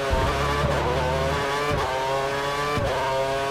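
Formula One race car in the F1 2013 video game on the Korea circuit, engine revving hard with rising and falling gear changes, brief tyre squeal, loud and close throughout.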